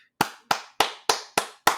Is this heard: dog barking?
no